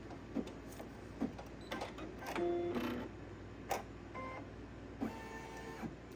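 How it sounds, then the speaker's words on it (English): An embroidery sewing machine running a basting stitch around an apron design, with a motorized whir and repeated mechanical clicks and ticks at uneven intervals, close and moderately quiet. "it's just making a basting stitch all around where the design's going to be, which will just keep that in place"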